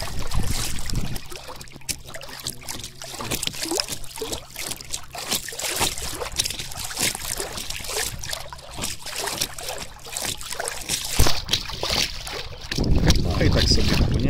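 Small fishing boat with outboard motor cruising across a lake between pike and zander spots, a steady low engine drone with water rushing and wind buffeting throughout, fairly close and continuous.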